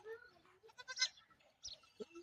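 A newborn goat kid, an hour-old crossbred kid on a village farm, gives short high bleats close by, with a brief voice nearby.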